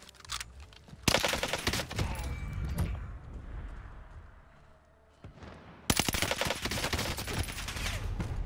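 Bursts of rapid automatic gunfire from the shooter game Warzone, two long dense volleys separated by a quieter lull, close and loud.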